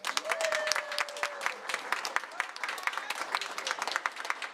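Audience applause at a school district board meeting, steady, dense clapping throughout, with a faint voice briefly audible near the start.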